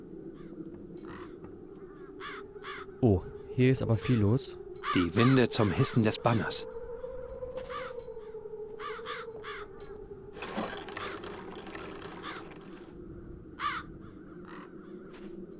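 Crows cawing in the video game Satinavs Ketten, a run of sharp harsh caws repeating over a steady low ambient drone, with a person talking over part of it.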